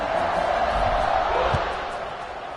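A steady roar of a stadium crowd fills a football kickoff in the video game NCAA 26, a broad, continuous murmur that fades slightly toward the end.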